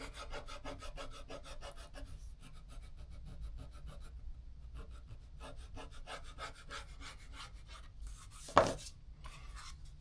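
Leather being roughed up for a knife sheath gives a steady, quiet rasping scrape in rapid repeated strokes, with one brief louder knock near the end.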